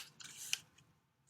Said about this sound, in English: You also need some scissors. We're just going to cut into some rectangles.